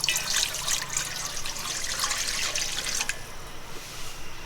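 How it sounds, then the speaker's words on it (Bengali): Water splashes and trickles into a cooking pot for boiling eggs in a home kitchen, a soft close pour lasting about three seconds before trailing off to quiet. "আগে আমরা ডিমটা সিদ্ধ করে নেব জন্য এখন আমি পানি দিয়ে দিচ্ছি"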